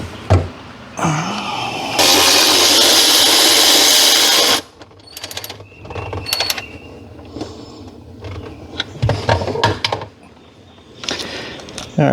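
A wrench cracks bolts loose on a 1997 Seadoo XP engine, with a long loud ratcheting or whirring burst near the mic followed by scattered metallic clicks and clanks as someone talks.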